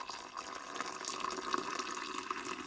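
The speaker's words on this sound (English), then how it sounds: "Then I'm gonna add some hot water from my kettle," Hot water is poured from a kettle into a cup or bowl while a keto-friendly meal is made at home, a steady close splashing trickle running throughout with no talk.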